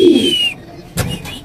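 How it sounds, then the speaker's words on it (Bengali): Pigeons at a pigeon farm give a loud, close coo, followed by a brief rustling burst and a fainter second call. "ভাই কবুতরগুলো দেখেন মাশাআল্লাহ, সুস্থ সবল কালারফুল কবুতর নাকি ভাই?"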